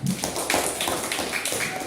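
A class clapping for a student group, a brief brisk patter of many hands in a classroom with a voice or two mixed in.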